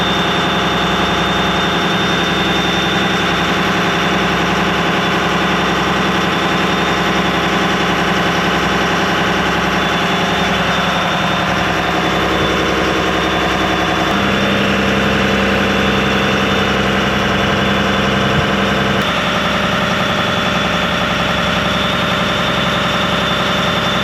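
Twin boat engines, both running off the aft fuel tank, drone loudly and steadily at close range. The low rumble stays constant throughout, with only slight tonal shifts and no talking.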